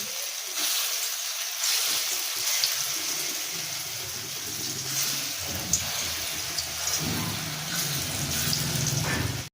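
Pea dal fritters frying in hot oil in a kadai give a steady, close, hissing sizzle that carries on without a break, with small crackles over it.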